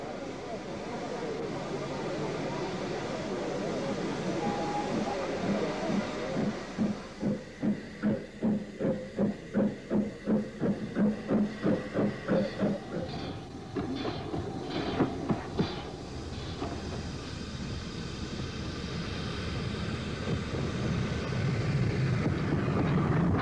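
A Wainwright class E rebuild steam locomotive arrives at a station, rhythmic chuffing and clanking wheel beats slowing into a steady hiss, with speech heard over it throughout.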